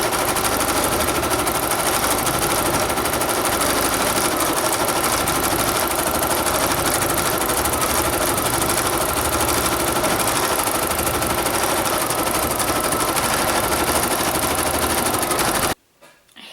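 A BERNINA 880 sewing machine stitches a quilting design in an oval embroidery hoop, giving a steady, fast, continuous mechanical whir up close that stops abruptly at the end.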